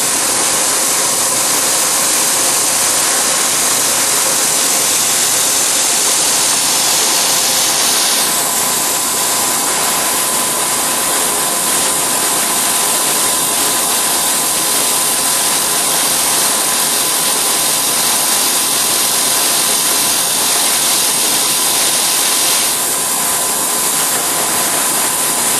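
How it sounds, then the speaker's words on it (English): A CNC machine drills a series of start holes in a tilt hinge part, with a loud, steady, broadband whir and hiss of spindle and coolant running continuously without pause. "This will be drilling a series of holes."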